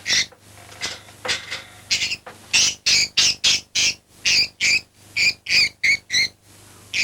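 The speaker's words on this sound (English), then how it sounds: "The vet holds the bird firmly so that he can clip its claws." Pet budgie squawking while a vet holds it firmly to clip its claws, with a rapid series of shrill, harsh calls that grow more regular and insistent, loud and close.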